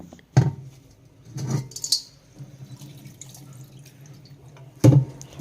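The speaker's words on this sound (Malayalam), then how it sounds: "ജസ്റ്റ് ഞാൻ അധികം പ്രസ് ചെയ്യുന്നൊന്നുമില്ല ജസ്റ്റ് ഒന്നിങ്ങനെ ഉരക്കുമ്പം തന്നെ നമുക്ക് നന്നായിട്ട് ക്ലീൻ ആയിട്ട് കിട്ടുന്നുണ്ട്" A soot-blackened cooking pot scrubbed clean with charcoal powder at a sink, with wet scraping and a few sharp clunks near the start and again near the end over a steady low background of running water, close and moderately loud, with no talking.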